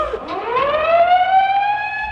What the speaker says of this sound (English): The escape sirens wailed over the yard.